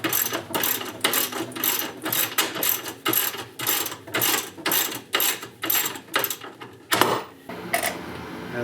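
A hand ratchet with a 9/16 socket clicks in quick repeated bursts on the battery terminals of a 2006 Club Car DS 48-volt electric golf cart, close and loud, pausing briefly between strokes.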